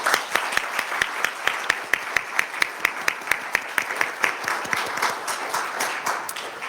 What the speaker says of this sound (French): ça mérite une bonne main d'applaudissements à tout le monde